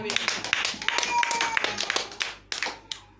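Hands clapping in a church congregation, uneven bursts of claps spread over a few seconds with voices and other sounds mixed in underneath.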